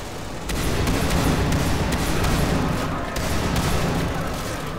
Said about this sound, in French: j'ai bien fait de prendre ce fusil à pompe